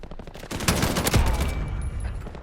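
Oden rifle fired from the hip in Modern Warfare: a short, loud burst of several heavy, rapid gunshots with a booming tail fading into echo.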